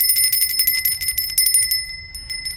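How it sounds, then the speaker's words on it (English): A hand bell rings close by in a quick run of bright, clear strikes, then the tone fades into a short ringing tail. "I always carry a bell."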